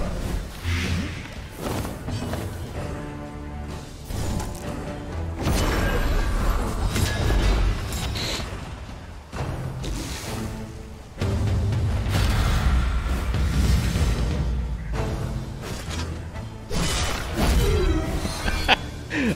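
Grenade blasts in Darkest Dungeon 2, heavy thuds and booms with shattering crunches over a droning game score, several impacts spread across the stretch, loud and near, with no voices.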